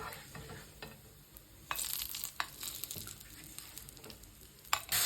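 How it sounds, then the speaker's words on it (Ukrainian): Chopped onion frying in rendered pork fat in a pan, a steady soft sizzle with crackling pops and occasional scraping stirs, close and continuous with no talking. "І тепер в цьому жирі підсмажую цибульку до золотистого кольору."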